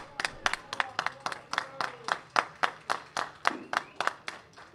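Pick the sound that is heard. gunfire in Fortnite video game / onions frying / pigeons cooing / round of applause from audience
round of applause from audience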